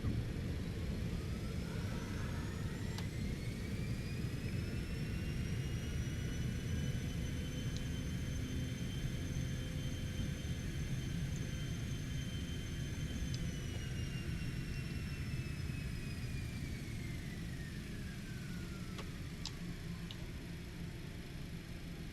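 Cessna Citation X business jet rolling out after landing at Sarajevo, with a sustained low cabin rumble and a rising then falling engine whine as reverse thrust spools up and winds down, heard from inside.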